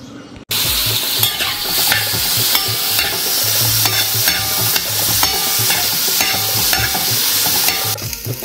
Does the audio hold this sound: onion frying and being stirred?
yes